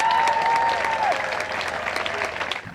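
A crowd applauds and cheers warmly for Dick and Rick Hoyt, Team Hoyt, at the Marlborough Triathlon, a dense outdoor burst of clapping with a brief whistle at the start, fading slightly toward the end.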